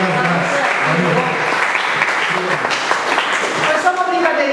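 A small group claps for a friend, a brief round of applause close by with people talking and laughing over it throughout.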